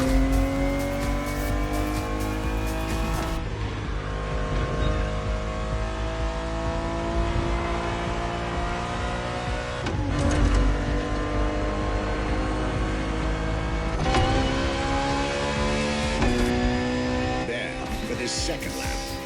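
A Ferrari 365 GTB4 racing in The Crew Motorfest video game, its engine loud and close, climbing through gears with rising whines, sharp shift breaks and occasional tyre squeal, while a voice talks over the roar.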